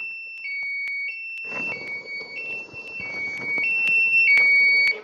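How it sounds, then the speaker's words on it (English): An electronic alarm repeatedly sounds shrill beeping tones, loud and close, with some rustling and movement noises underneath. "Alarm."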